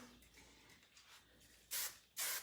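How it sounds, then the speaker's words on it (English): Hairspray from an aerosol can hisses onto hair smoothed into a sleek bun, two loud bursts of about half a second each coming after a quiet stretch. "And then I'm gonna take my hairspray"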